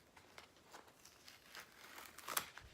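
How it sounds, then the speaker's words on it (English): Washi tape peels away from the edge of a diamond painting in a faint, close crinkling and tearing, building to a sharper rip near the end. "we're going to take off the washi tape that was protecting it"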